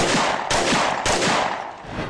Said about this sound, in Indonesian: Lalu tiba-tiba terdengar 3 letusan.